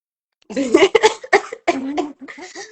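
A person coughs several times in close, raspy bursts, with short pauses and some breathy, voiced sounds between them.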